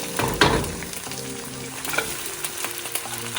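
Shrimp fried rice in the Indo-Chinese style sizzles steadily in a pan as it is stirred, with a few scraping clatters as boiled shrimp go in. No one speaks.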